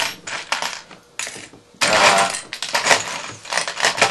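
Metal hex wrenches clinking and rattling while being rummaged through, a series of sharp bright jangles and clatters in bursts, close and fairly loud with short pauses between.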